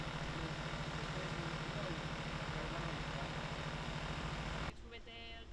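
A tractor engine idles and rumbles steadily up close amid a street protest in Pamplona, with a low throbbing pulse, then cuts abruptly to a quieter, thinner background near the end.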